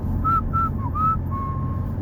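A person whistles a short jingle imitating the P.C. Richard & Son commercial: several clear, close tonal notes ending in a held pitch, over a low background hum.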